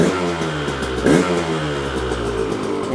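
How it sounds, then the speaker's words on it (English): A two-stroke motorcycle engine running on premix fuel revs up and down in a steady, raspy cycle close to the microphone, one sharper rise near the middle, with no talk. "we're gonna see if it revs out okay without, you know, making my neighbors totally mad at me."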